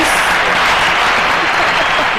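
A packed audience at a talk on the dictatorship, the Church and memory applauds Graciela Lois with loud, dense, continuous clapping from many hands close by.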